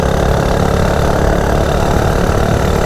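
Coleman CT100U minibike engine with its governor removed, running at high RPM during a top speed run, a loud continuous drone that holds steady throughout with no talk.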